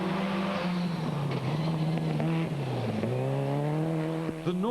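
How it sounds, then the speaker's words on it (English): Rally cars race flat out along forest roads at Mount Crawford in the Adelaide Hills, engines screaming loud and near with rising and falling revs through gear changes, running continuously with no talk. "70 cars battling for position through the challenging forest roads at up to 200 kilometres an hour."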